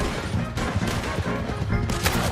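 Several sharp gunshot bursts ring out in Red Dead Redemption 2, scattered irregularly over a couple of seconds against a dense, noisy game background.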